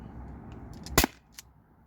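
A single sharp crack from an Umarex T4E HDP50 pistol firing an 8.4 gram steel ball bearing, close and brief, with a faint click a moment later.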